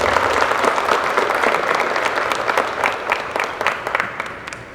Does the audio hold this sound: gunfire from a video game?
no